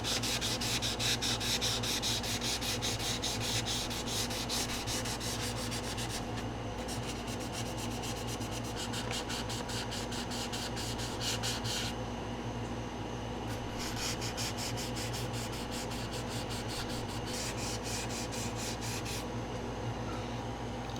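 Gentle sanding across the primed surfaces of an A-6E Intruder scale model kit, a long, soft, continuous rubbing hiss in repeated strokes with brief pauses between passes, close and fairly quiet, with no talking.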